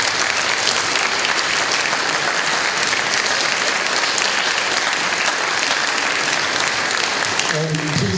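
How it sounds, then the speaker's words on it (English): Sustained audience applause at a Hyperbolic Band concert, a dense even wash of clapping from a full hall lasting throughout, fading slightly at the end. "So please, round of applause to all of you for being here."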